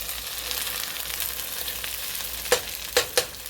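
Sandwich fillings for a copycat Arby's beef and cheddar sandwich fry on a stove burner with a steady close sizzle, then three sharp clanks of utensil against pan near the end.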